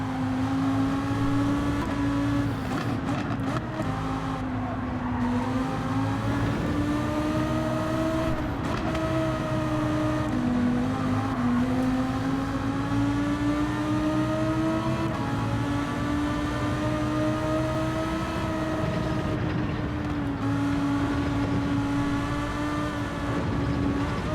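A Lamborghini race car's engine drones steadily through a lap in Gran Turismo, its loud, continuous tone rising and falling as the car accelerates and shifts.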